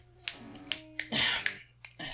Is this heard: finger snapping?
yes